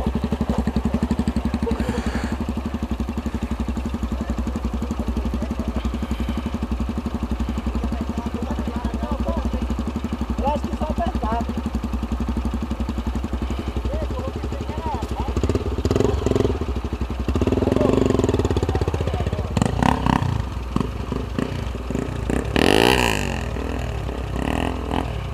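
A motorcycle engine idles steadily close by, then revs in a few uneven bursts with clattering and thuds, as people talk over it outdoors near a dam.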